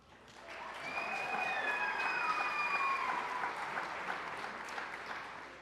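Audience applause for 30-year service award honorees at an awards celebration, steady clapping that swells in and holds, with a few faint whistles over the top.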